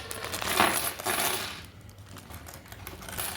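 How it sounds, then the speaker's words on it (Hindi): Old Jawaharlal Nehru coins tumble out of their package, a close burst of metallic jingling and clinking that fades and then returns as a few lighter chinks. "ये आ गए सिक्के, ये बाहर है।"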